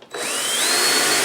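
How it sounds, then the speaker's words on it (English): A power drill bores holes into the bottom of a plastic container, its motor spinning up sharply after a brief pause and then whining steadily and loudly up close, with no talking. "drill holes in the bottom and be very gentle with it because that you don't want to crack that plastic"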